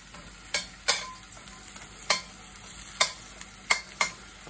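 Scallops and shrimp stir-frying in sesame oil in a wok, with a steady sizzle broken by about eight sharp scraping stirs and clanks at uneven intervals, close up.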